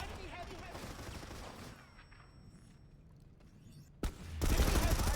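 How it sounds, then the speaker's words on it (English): A Lynx gun unloading a magazine in a competitive video game match, rapid shots at first that fade into quieter ambience, then a sharp crack and a heavy burst of renewed firing, with faint voices. "A Lynx just fires so fast, you unload your mag"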